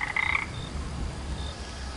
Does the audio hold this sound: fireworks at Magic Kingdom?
no